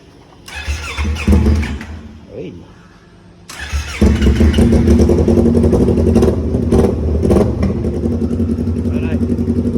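A motorcycle in a garage cranks and catches twice, then settles into a loud, steady idle as it warms up. A person speaks briefly over the engine.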